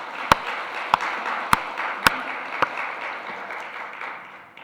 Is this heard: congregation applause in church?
yes